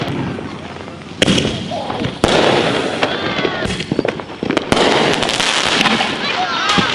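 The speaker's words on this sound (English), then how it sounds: "We did get a little distracted by the fireworks" Fireworks going off around midnight on the 4th of July, sharp loud bangs and crackling bursts that come in clusters, with whistling trails and people talking between the blasts.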